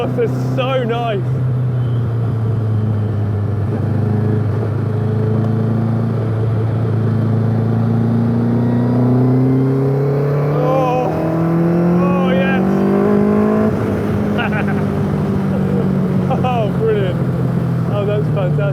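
A Kawasaki ZZ-R1200 engine in an MK Indy Classic kit car roars loudly and continuously through its exhaust, its pitch sweeping up and down through the revs, with a person talking over it.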